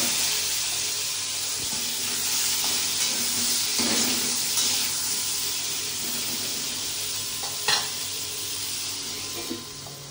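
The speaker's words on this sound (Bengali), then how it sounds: "তো পটলগুলো ভেজে দিচ্ছি।" Pieces of pointed gourd (potol) fry in a pan with a steady, close, hissing sizzle that runs throughout, broken by a few soft clacks of a utensil stirring them.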